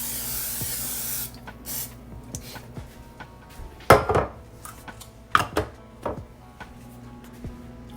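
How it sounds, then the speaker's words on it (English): Cooking spray hisses onto a pan in a home kitchen while protein pancakes are being made. One loud continuous spray burst lasts about a second, then come scattered clinks and knocks of the pan and utensils. "You're gonna spray it."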